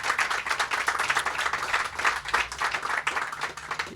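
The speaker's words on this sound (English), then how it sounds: "And I think that deserves a round of applause" Outdoor crowd applauding at a shopping center and Walmart Supercenter groundbreaking ceremony in Frederick County, dense continuous clapping with fluctuating intensity, fairly close and loud, no talking over it.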